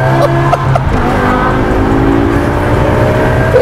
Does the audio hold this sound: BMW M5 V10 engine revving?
yes